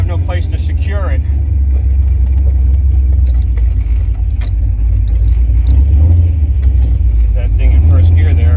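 A 1968 Chevrolet Camaro on the road, recorded from inside the car, gives a loud, steady low engine rumble throughout, with someone talking over it near the start.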